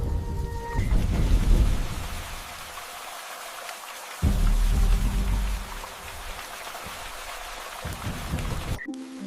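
Rain falls steadily in the Congo rainforest, a dense, loud wash of drops in surges, with a deep rumble midway through and no voices.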